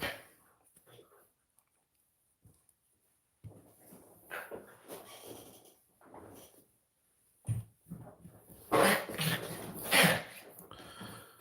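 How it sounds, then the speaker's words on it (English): A pet dog barks and whimpers in short bursts, loudest near the end, with quiet gaps between. "That's my poor dog."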